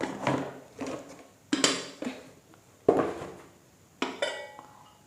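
A heavy glass storage jar with a handleless lid is opened and handled in a kitchen, giving a series of sharp clinks and knocks in separate bursts, each fading quickly, with quiet pauses between.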